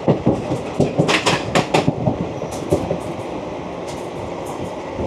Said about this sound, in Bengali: আমাদের ট্রেন পার করছে উলুবেড়িয়া স্টেশন।